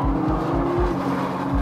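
A 2013 Nissan GT-R Black Edition slides under throttle, its engine droning steadily under a pulsing, rapidly repeating low thrum, loud and close for a brief moment.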